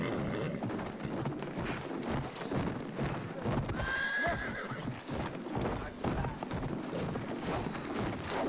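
Horse in the World War I shooter Battlefield 1 galloping with rapid rhythmic hoofbeats, joined by a clear whinny midway, under constant game noise and effects, close and fairly loud.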